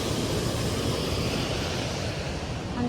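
The waterfall at Little Qualicum Falls Provincial Park gives off a continuous, dense rushing roar of falling water, steady and loud throughout, with no voices.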